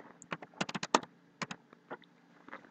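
Keys clack on a computer keyboard in quick, irregular bursts of close, crisp taps with short pauses between, set against a faint steady hum.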